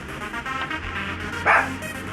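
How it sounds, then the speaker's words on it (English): A single sharp dog bark rings out about two-thirds of the way through, at moderate distance over a steady low indoor hum, with no other barks following. "My dog is barking."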